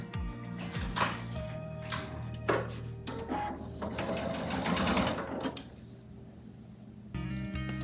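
A sewing machine stitches a quilt seam in rapid mechanical bursts, starting and stopping several times at close range, with brief pauses between runs and a low motor hum underneath.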